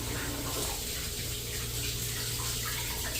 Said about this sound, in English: then I need to wash my hands.